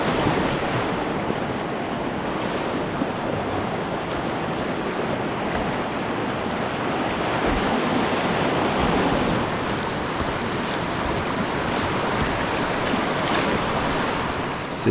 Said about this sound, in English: There's still lots of boulders and things to bounce off of, and but yeah, just a beautiful river.